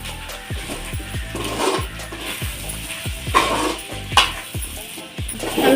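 Pasta with sauce being stirred in a pan, mint and coriander just added, giving repeated scraping and sizzling strokes with a steady rhythm, close and fairly loud, with no voices over it.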